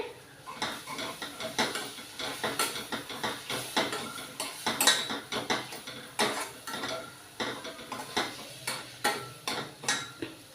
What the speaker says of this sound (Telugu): నెక్స్ట్ సాల్ట్ శుభ్రంగా కలుపుకోవాలి